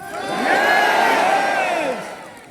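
A large seminar audience shouts back together in one loud, sustained collective roar of many overlapping voices, swelling quickly and holding for about two seconds before fading, with no single speaker standing out.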